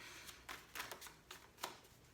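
Tarot cards being shuffled in a quiet room, a series of soft papery riffles and flicks in uneven bursts, fairly faint and close, with no talking.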